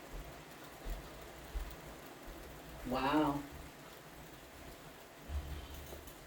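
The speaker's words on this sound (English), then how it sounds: "Y'all want to hear the rain? It just came down." Sudden rain falling outdoors, a soft steady hiss in the background while a voice briefly speaks.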